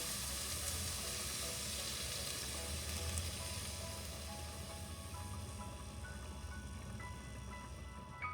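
Vegetables and cream cook in a hot pan, giving a steady, dense sizzle that runs through the whole stretch at moderate level with no voices over it.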